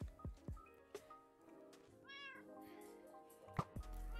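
Minecraft cat meows once in a clear rising-falling call midway, with scattered clicks and soft game sounds before and after, fairly faint overall.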